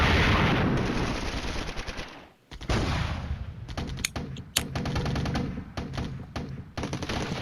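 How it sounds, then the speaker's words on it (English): Artillery and gunfire from Flashpoint Campaigns: Red Storm, a Soviet tank wargame: a loud, dense roll of shots and blasts that briefly drops out, then resumes with sharp cracks standing out over continuous rumbling fire. "There goes the artillery."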